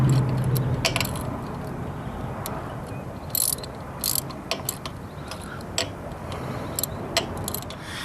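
A ratchet wrench tightening a bolt on valve extensions, giving irregular clicking bursts and short ratcheting strokes with metallic jangles over a low background hum, close by and without speech.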